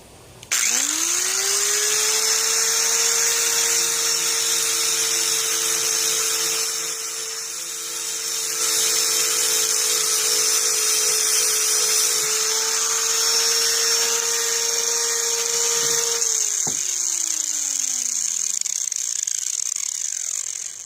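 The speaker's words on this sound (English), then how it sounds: "It's okay to use a grinder on an axe." A bench grinder sharpens a Vaughn two-pound camp axe, a loud sustained whine with a steady pitch running for about fifteen seconds, briefly dipping midway, then spinning down as the wheel slows.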